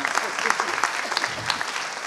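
Brief burst of audience applause for a company's communication team at a business conference, dense and close clapping throughout with faint voices beneath.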